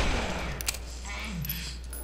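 Gunfire from Black Mesa sounds as a couple of sharp cracks over a low, steady game hum, moderately loud, with a voice speaking briefly.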